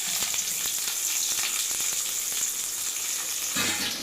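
Onion and curry leaves fry in oil for a prawn curry, making a loud, continuous sizzle with scattered pops and crackles and a brief stirring scrape near the end, with no voices over it.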